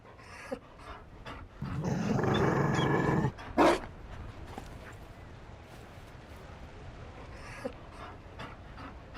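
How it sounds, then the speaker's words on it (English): A Mabari war dog in Dragon Age: Inquisition pants loudly and steadily at close range for a couple of seconds, followed by a brief sharper huff and faint panting and footsteps over a quiet room tone. "You found a dog? They don't breed Mabari in Olay."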